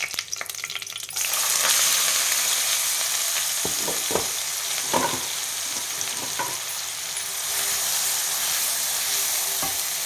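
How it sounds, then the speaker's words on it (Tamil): Onions sizzle steadily in hot oil with mustard seeds, fennel and curry leaves, sautéing in a pan for a fish podimas. The close, continuous frying hiss is broken by a few sharp stirring scrapes, and no one speaks. "வெங்காயம் நல்லா ப்ரௌனாக வதங்குற அளவுக்கு நம்ம வதக்கி விடணும்."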